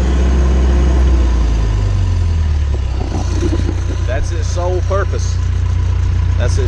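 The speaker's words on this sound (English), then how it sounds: "That's its sole purpose is to decelerate the engine." A John Deere 450J bulldozer's diesel engine drops from a strong rumble to a lower idle as the decelerator pedal is pressed, steady and close, with a person talking over it.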